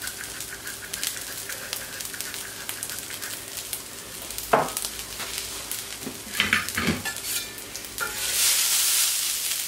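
Diced red pepper sizzles on a generously oiled plancha while being stirred quickly, a steady close frying hiss broken by scraping spatula strokes and a few sharp clatters, swelling louder near the end.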